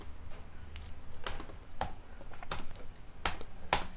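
Computer keyboard typing JavaScript code for reading URL parameters: a steady run of light, close key clicks with a few sharper, louder taps, and no talking.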